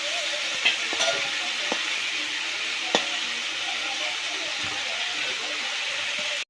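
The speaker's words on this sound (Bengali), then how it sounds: "ফুলকপি আলু গাজর আমি একসঙ্গে ভেজে নিচ্ছি।" Cauliflower, potato and carrot frying together in a pan with a little salt and turmeric, giving a steady close sizzle with a few soft clinks of stirring and no talk.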